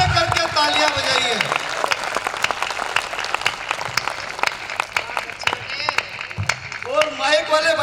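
Audience at a Hindi comic poetry gathering claps steadily throughout, a dense crowd of hands filling the space, with a voice speaking briefly over the applause near the start and end.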